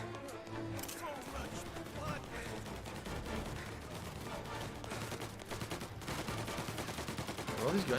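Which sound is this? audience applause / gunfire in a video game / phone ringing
gunfire in a video game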